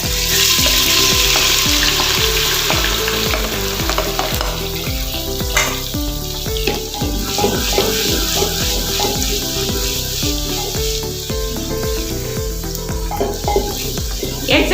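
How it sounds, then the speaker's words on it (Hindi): Garlic and ginger paste fries in hot oil left from frying onions for beef haleem, a loud continuous sizzle under a steady musical backing, with occasional stirring clatter. "अब इसी ऑयल में आपने शामिल करना है लहसुन और अदरक का पेस्ट,"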